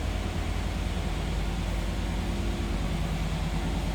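A 1992 Chevrolet Camaro RS 25th Anniversary coupe idles on its stock exhaust, a steady, even low rumble with no revving, continuous and unbroken throughout.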